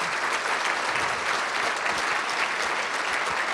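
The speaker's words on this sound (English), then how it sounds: "please, can we just please clap again for that?" A crowd at a sports celebrity event in Rockford breaks into loud, sustained applause, a dense, even wash of clapping filling the whole stretch without pause.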